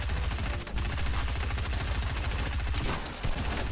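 Rapid automatic gunfire in a video game battle, a dense, continuous burst of shots running loud and close throughout, with a brief dip near the end before firing resumes.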